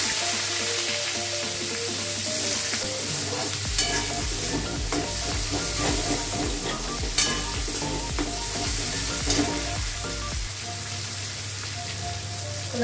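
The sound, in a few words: dried chilli, panch phoron and onion frying in oil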